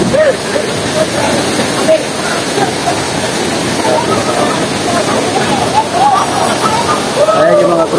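Antong Falls waterfall roaring steadily at close range, a dense constant rush of falling water with crowd voices and chatter mixed in throughout.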